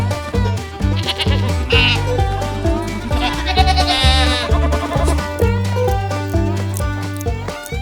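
Goats bleating at a state fair, several loud wavering bleats close by over a dense barn background with a low hum and faint voices.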